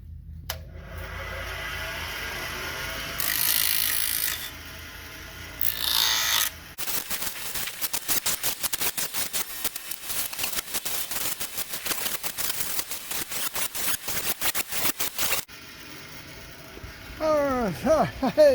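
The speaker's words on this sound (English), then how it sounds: "We're going to chamfer our edges in this grinder." Grinder chamfering the edges of a wooden folding step for an RV, heard outdoors as a steady buzzing, rasping run of about eight seconds, bracketed by brief noises and faint talk.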